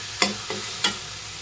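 A spatula stirs taro leaves with prawns in a pan to dry off the water, giving three quick scraping knocks in a loose rhythm over a faint sizzle.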